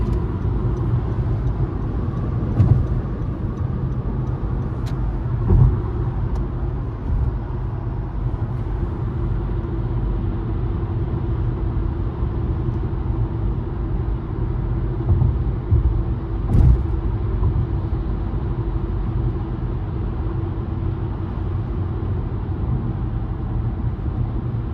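A car drives steadily along a road during a driving lesson, changing lanes, its low engine and tire rumble continuous, with a few faint bumps and clicks and no talk over it.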